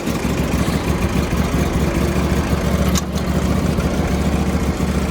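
A Ferris zero-turn riding mower engine runs close by, a loud, steady low-pitched rumble that holds level throughout, with a brief higher squeak partway through.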